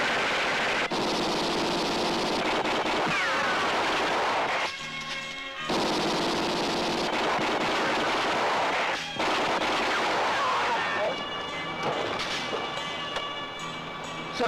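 Loud, sustained bursts of gunfire roar almost continuously, broken by a few brief pauses, with rattling automatic fire and no voices.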